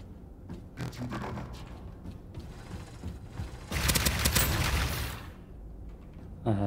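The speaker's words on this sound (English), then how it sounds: "Shots very close." Gunfire in the video game Starsiege Deadzone: scattered shots early, then a dense burst of rapid automatic fire midway that fades out, with mechanical clicks and a close final shot.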